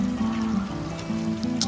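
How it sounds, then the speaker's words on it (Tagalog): Water pump in a koi pond filtration system lifting water up to an elevated tank with bead filter media, giving a steady low churning trickle and gurgle that runs continuously throughout. "Yan, yung water pump natin, aangat yung tubig dyan sa taas."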